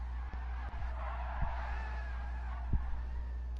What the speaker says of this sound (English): There's one drifting.